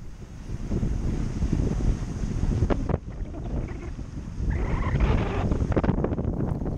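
Wind at sea aboard a sailboat in a Baltic Sea regatta buffets the microphone in a continuous low roar, gusting stronger at times, with a few faint knocks and creaks.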